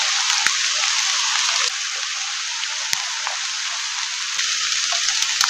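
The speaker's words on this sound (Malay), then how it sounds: "Hujan pun makin lebat." In a forest, heavy rain falls as a dense, steady hiss of drops. Occasional sharper drips tap on nearby surfaces, and there is no talk.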